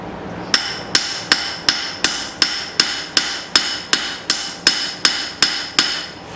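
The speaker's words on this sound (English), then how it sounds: "using the face of the anvil to flatten it out." Blacksmith's hammer flattening a forged utility knife blade on the face of an anvil, thirteen evenly spaced ringing metallic strikes at a steady brisk rhythm, loud and close with no talk.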